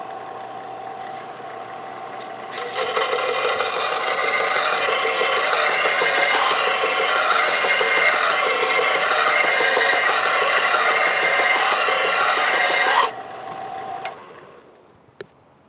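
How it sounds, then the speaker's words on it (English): A cheap Harbor Freight power sander runs steadily for about ten seconds, grinding a part for a blade display, loud and close with a broad hissing rasp, then cuts off and winds down to quiet. "This is just a cheap little Harbor Freight sander, so I'm not too worried about it."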